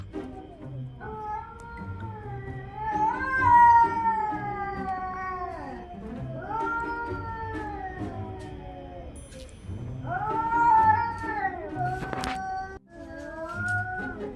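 Cats yowling outside at three in the morning, long wavering caterwauls rising and falling in several drawn-out bursts, fairly close and loud, with short pauses between the cries and no talking.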